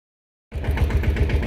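A tractor engine towing a motor bursts in after silence, settling into a loud, close, rhythmic diesel chugging.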